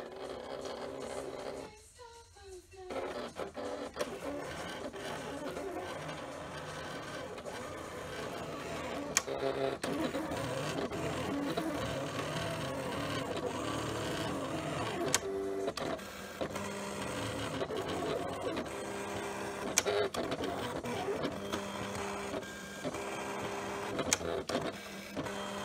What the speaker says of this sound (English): once the Cameo or your Silhouette machine reads those registration marks, then it can cut just like this